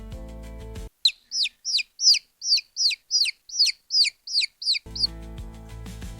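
Chicks cheep in a steady run of about a dozen high, quick peeps, clear and close, with music before and after.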